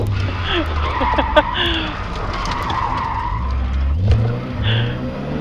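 Rally car on a gravel special stage skidding and sliding through a turn, engine revving loud and close with tyre scrabble over loose stones, passengers' voices faint beneath.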